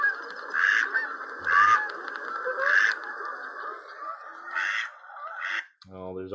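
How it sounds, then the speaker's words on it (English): Repeated short bursts of high, whistly mallard drake courtship whistles, several in a row, fairly close, with quacking-like notes at the end. "you'll hear people call these Drake whistles"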